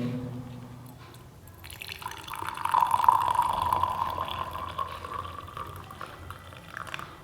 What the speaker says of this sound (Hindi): इस फ्लास्क में धीरे धीरे गर्म पानी ऐड करूँगा